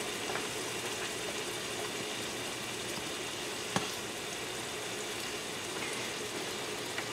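Minced garlic sizzles in butter in a hot pan while scallops cook, a steady close crackle and hiss that runs evenly throughout with one brief sharper pop midway.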